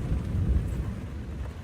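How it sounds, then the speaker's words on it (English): A low, distant rumble of thunder from a wilderness thunderstorm rolls on steadily and fairly quietly with no voices. "A little thunderstorm."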